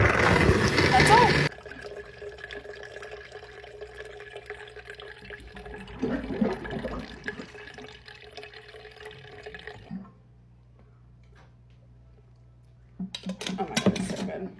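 An almond milk machine running its nut milk program gives a low, humming motor whir with a rattling mid-section. It settles into a faint drone, with louder noisy bursts at the start and end.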